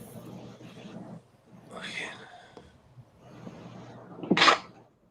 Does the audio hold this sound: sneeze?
yes